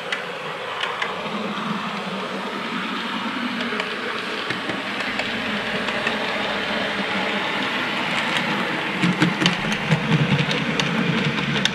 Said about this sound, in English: There goes the DMU on its return journey.